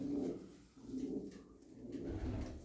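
A racing pigeon coos softly nearby, a low murmuring call repeated a few times in a quiet setting.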